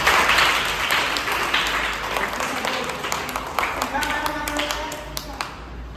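Applause breaks out for a guest at a school fire-fighting awareness session, loud at first then thinning into scattered individual claps with some voices in the room.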